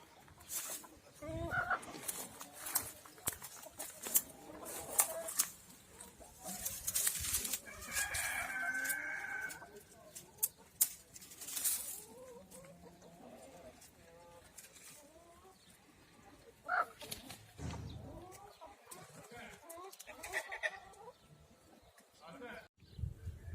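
Village roosters on a free-range chicken farm crow repeatedly while hens cluck nearby, the birds close and lively, with someone talking intermittently over them.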